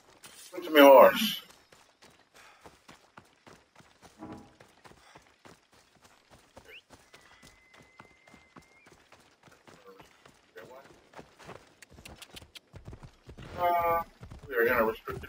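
Hooves clip-clop rhythmically as a horse moves in the video game Assassin's Creed Odyssey, soft and steady, with someone talking over parts of it.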